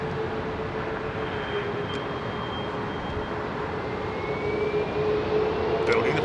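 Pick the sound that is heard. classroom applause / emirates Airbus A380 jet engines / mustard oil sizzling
emirates Airbus A380 jet engines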